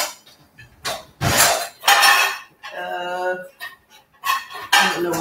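Metal utensils clink and clatter in several loud bursts, close by, as someone rummages near a big cooking pot, with short ringing scrapes between the knocks.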